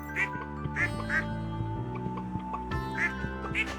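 Ducks on a Stardew Valley video game farm quack several times in short separate calls, up close over steady game music.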